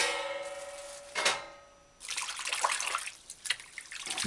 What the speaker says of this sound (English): give COMFREY a final rinse in fresh water